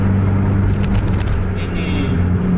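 A Mercedes-Benz 2445 sleeper bus cruising around 105–110 km/h engages its retarder, giving a steady low droning hum under road and engine noise inside the cabin.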